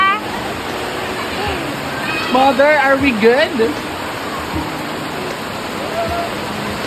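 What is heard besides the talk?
heavy rain pouring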